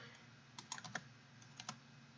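A few quick, soft keyboard taps come in small bursts on a computer keyboard during a copy and paste into Google Images, faint and close with no speech.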